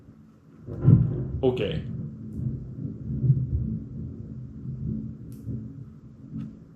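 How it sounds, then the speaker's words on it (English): A thunderstorm rolls through Latvia, with low rumbling thunder swelling and fading under a brief spoken word and some nearby handling noise. "There's a full-on storm now."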